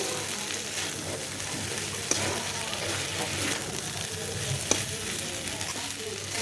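Lotiya dried fish and potatoes sautéing in a pan, a dense continuous sizzle with stirring and two sharp clinks of a utensil against the pan, no talk.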